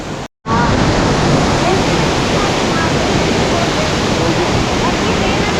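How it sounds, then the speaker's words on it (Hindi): A waterfall on the Madmaheshwar trek, a Panch Kedar pilgrimage route, gives a loud, close, unbroken roar of rushing water, briefly cut at the start and then steady throughout. "एक खूबसूरत झरने को अलविदा कहते हुए आगे बढ़ रहे हैं।"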